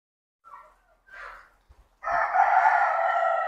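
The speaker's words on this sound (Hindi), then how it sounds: "काफ़ी ज़्यादा मुर्गा है भाई" Black chickens on a farm cluck briefly, then a rooster crows loudly and close, holding a long call to the end.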